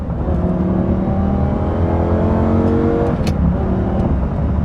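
Lamborghini Gallardo with a gated manual gearbox revving hard, its engine note loud and close, rising steadily in pitch as the revs climb, with a brief shift-like break near the end before pulling on again.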